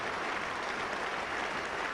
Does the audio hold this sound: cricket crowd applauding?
yes